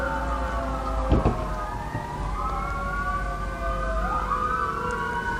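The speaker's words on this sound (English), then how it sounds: "there's all kinds of sirens outside" Wailing sirens rising and falling at a distance, several overlapping, over a constant low traffic rumble.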